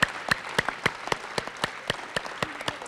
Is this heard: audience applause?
yes